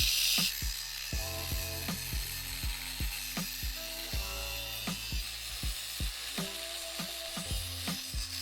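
A ratchet loosens the V-band clamp on a custom turbo downpipe for a Miata with an eBay T3/T4 turbo, giving a steady run of close, clicking ratchet strokes in an even rhythm.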